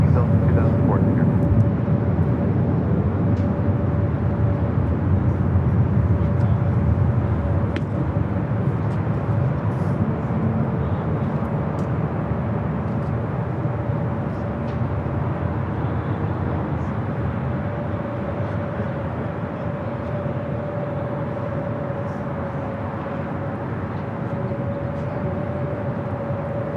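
A Delta airliner departing at LAX airport rumbles steadily throughout, a loud continuous roar with a sustained tone, gradually easing slightly toward the end.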